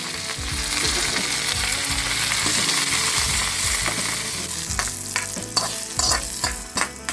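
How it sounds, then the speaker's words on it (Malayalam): Curry leaves sizzle loudly in hot coconut oil over popped mustard seeds while mango pachadi is prepared. A steady, dense crackle is heard up close, with a few sharper pops and spatters near the end. "ഇതിലേക്ക് ഞാൻ കറിവേപ്പില ചേർക്കാം."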